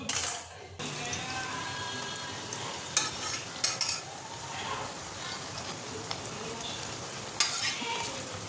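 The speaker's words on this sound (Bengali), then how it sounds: "এই যে গরম গরম একটু পাকোড়া ভাজা হচ্ছে ডালের বড়া" Lentil pakoras (dal bora) sizzle steadily in hot oil in a home kitchen, a continuous crackling hiss broken by a few sharper clinks and taps of utensils. No one speaks.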